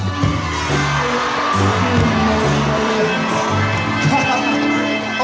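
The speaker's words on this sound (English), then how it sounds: "Let me hear you shout loud, all the lovers in the crowd." Crowd at a live lovers rock reggae concert shouting and cheering over loud, steady band music, voices blended into a dense wash that runs the whole time.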